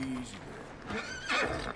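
A horse whinnies in Red Dead Redemption 2, a short high neigh rising near the end over faint background sound.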